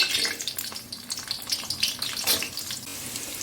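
Cauliflower pieces go into hot oil in a pan for egg chowmein and hiss and crackle as they fry. The sizzle is close and continuous, with sputtering bursts and stirring noises and no talking.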